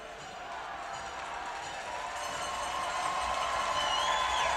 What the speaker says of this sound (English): And now the fans start to get loud as they will cheer their team on to a 1-0 series lead.